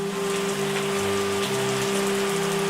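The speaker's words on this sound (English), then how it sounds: "Hopefully this rain will go towards getting us a bit of foliage early on in the season" Steady rain falls in the vineyard wine-making game Terroir, a dense, even patter over a low tonal game music hum, with no voices.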